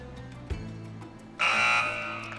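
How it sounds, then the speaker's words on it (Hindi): A quiz-show buzzer system is switched on, giving one loud, steady electronic tone that sounds abruptly and holds for about a second before easing off, over a low background hum. "मैं बज़र्स एनेबल कर रहा हूँ।"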